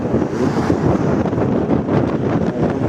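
Strong wind blows by the sea in Istanbul near Kasımpaşa, a loud, steady buffeting rush hitting the microphone with continuous low roar throughout.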